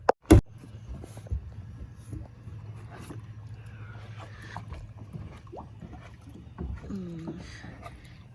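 A kayak paddled on calm water, soft irregular splashes and dripping strokes close by, with occasional bird calls in the background.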